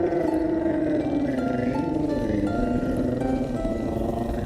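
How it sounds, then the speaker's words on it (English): Dog creature singing in Hollow Knight: Silksong, a sustained wavering, roar-like vocal tone heard alone for several seconds at steady loudness. "Yo, when did the dog learn how to sing"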